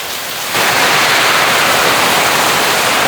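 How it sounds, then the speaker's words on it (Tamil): Heavy rain pours down steadily outdoors in Jaffna, a dense, loud, continuous wash of noise that swells sharply after a quieter first half-second and then holds without a break. "இப்படி மழை அடிச்சு ஊற்றுது என்ன சரியான மழை"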